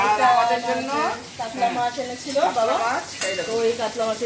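Fish and prawns frying in a pan in a home kitchen, with a steady sizzle beneath someone talking over it almost throughout.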